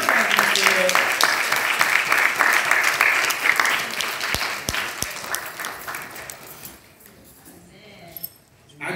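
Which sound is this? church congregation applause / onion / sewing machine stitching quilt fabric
church congregation applause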